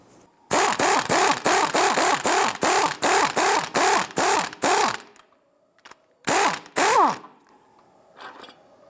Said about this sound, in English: We're going to use our 18mm socket to go ahead and loosen and remove this upper nut.